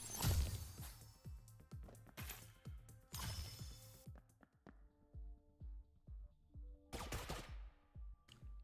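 A weapon fires in the video game Neon Abyss, with rapid bursts of sharp, punchy shots and ringing electronic tails, coming in clusters separated by brief pauses.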